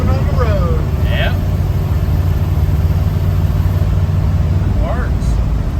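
A 1971 Ford F250, revived after nine years sitting in the trees, runs with a loud steady engine rumble close by while people talk over it.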